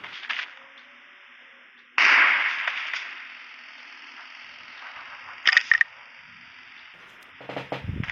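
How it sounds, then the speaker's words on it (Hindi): Suppressed Kar 98 sniper rifle shots in PUBG Mobile, loud sharp whip-like cracks with short hissing tails, spaced irregularly over a faint steady hum, with no voices. "अगर आपको कार 98 का सप्रेसर यानी कि स्नाइपर का सप्रेसर चाहिए तो यह है उसका"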